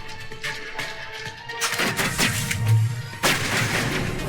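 Gunfire and heavy booms in the Mass Effect 1 battle at Therum ruins, several loud close shots and impacts over a droning background.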